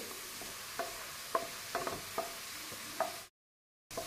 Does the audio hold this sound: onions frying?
yes